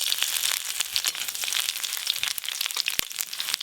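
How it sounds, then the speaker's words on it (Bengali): Sliced ginger and dried red chillies fry in hot oil, giving a continuous bright crackling sizzle with scattered pops, one sharp tap near the end, no talking. "স্লাইস করে আদা আর শুকনো লঙ্কা ভালো করে ভাজা হয়ে গেছে"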